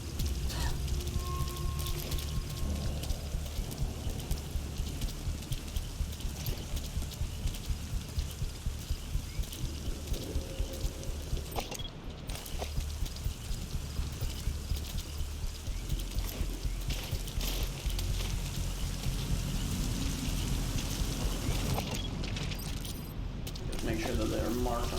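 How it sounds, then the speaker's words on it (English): Steady rain pours down in a close, dense hiss with a fine pattering texture that never lets up, and faint voices sit low beneath it. "Forgot about the rain being literally right there."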